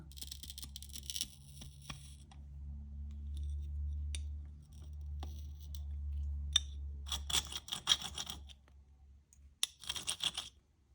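A steady low hum, then clusters of short gritty scraping strokes of a needle file on glass, close and fairly loud, with clicks scattered between them.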